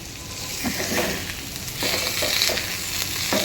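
Chicken tikka masala sizzles and fries in a pan, a loud, dense crackle with stirring scrapes and bursts of spattering, close by and steady with no voices.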